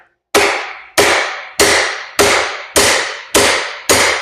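Seven sharp metallic hammer blows strike a castle nut threaded onto the crankshaft of a Yamaha IT175K, evenly spaced about half a second apart, loud and close with no talking.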